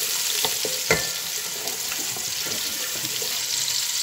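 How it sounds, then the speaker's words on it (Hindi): Onions and whole cumin seeds fry in a pan for a matar pulao, giving a steady close sizzle with a few sharp stir clicks and scrapes, no voices. "इसको फ्राई करेंगे।"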